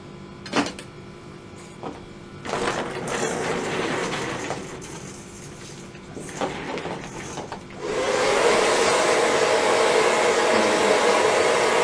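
A hair dryer blows, at first intermittently amid clatter and handling noise, then runs steadily and loudly as a broad continuous whoosh for the last several seconds.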